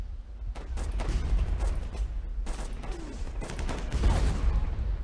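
Gunfire aimed at a bunker in the Warfare 1944 Flash game: bursts of rapid small-arms shots and heavier booming fire, repeated in clusters at steady loudness across the battle.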